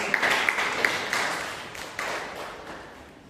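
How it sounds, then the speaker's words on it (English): Applause for a class representative election winner, moderate clapping from a group with a few sharp individual claps standing out early, gradually fading toward the end. "So that huge round of applause"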